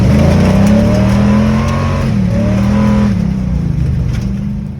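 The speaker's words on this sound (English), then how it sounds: "you can hear it rattling as Alex is driving away. The exhaust was really shanty" A 1996 Jeep XJ Cherokee with a loose, rattling exhaust pulls away, its loud engine rising and shifting pitch, then fading slightly as it moves off.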